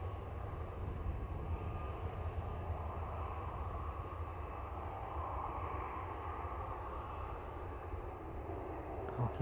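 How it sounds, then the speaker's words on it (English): A Ryanair Boeing 737 rolling far down the runway after landing, a distant, steady low engine rumble and broadband roar holding even throughout, no voices. "Never often we get to see the Ryanair 737s vacate that far down."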